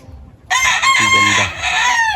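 A sweater-line gamefowl rooster on a farm in Tagaytay gives a single loud, close crow that starts abruptly after a quiet moment and carries a strained, wavering tone to the end.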